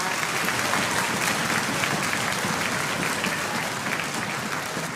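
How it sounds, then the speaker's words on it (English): An audience applauds 8th grade orchestra musicians at a school orchestra awards event, with steady, dense clapping that stays loud and even throughout without pause. "Give them a big round of applause"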